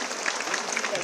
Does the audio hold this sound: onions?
no